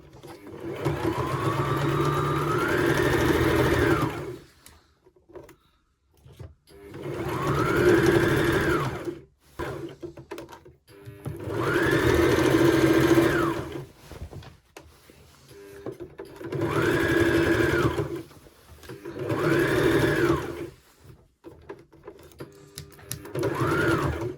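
A sewing machine runs a half-inch seam around a tiered maxi skirt, whirring in five bursts of several seconds each, separated by short pauses and soft handling clicks.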